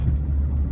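A car brakes hard on a road past a park, heard as a loud, steady low rumble of road and body noise with no squeal and no voices.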